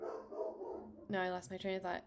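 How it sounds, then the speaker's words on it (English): Great Pyrenees dogs bark at night, heard as a few loud, deep barks close by that start partway through, following someone speaking quietly. "Sorry about my dogs. They are Great Pyrenees."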